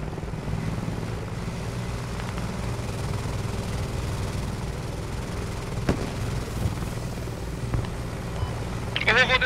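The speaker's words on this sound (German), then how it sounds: "da kommt auch ein Heli" A helicopter in the military shooter Squad drones steadily overhead, a continuous low rotor rumble with occasional sharp gunshot cracks and a burst of clatter at the end.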